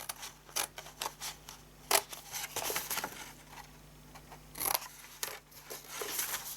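Scissors snip through paper along score lines while shaping a gift box, making a run of crisp, irregular cuts and rustles heard close up with no talking.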